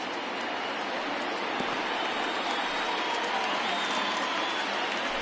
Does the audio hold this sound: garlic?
no